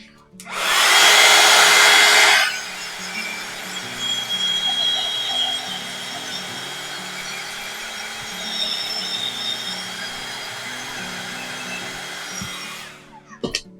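A hair dryer drying patina paint on a bird cage built from mudlarking finds, a loud close blast for about two seconds, then a quieter steady whir that cuts off near the end.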